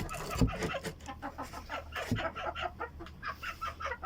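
Hens at a backyard egg-laying coop cluck nearby in quick, repeated bursts, with two soft thumps early on and a continuous low hum underneath.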